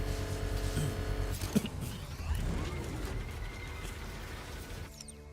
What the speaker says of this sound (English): I gotta rev it